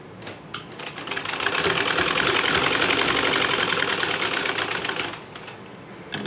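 A sewing machine runs in one steady stitching burst of about four seconds while a square neckline is sewn, with brief softer starts and stops at either end and no talking.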